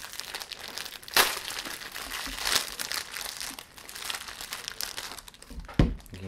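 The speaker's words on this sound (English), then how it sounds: "The first step, of course, is unwrapping the Twinkie." Crinkly plastic wrapping is peeled off a Twinkie, giving a steady close-up rustle and crackle with a few sharper crunches as the wrapper is torn and pulled away.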